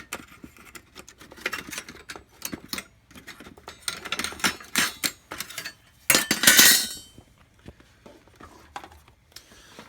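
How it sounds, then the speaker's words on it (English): Small metal clinks, clicks and a sharp scraping rattle as RF shielding is pried and lifted off an opened SNES console, irregular close-up handling noises with a louder metallic burst near the end. "Take the RF shielding off."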